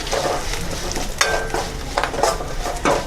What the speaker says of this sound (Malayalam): എന്നിട്ട് ഒന്നുകൂടെ ഇളക്കാം.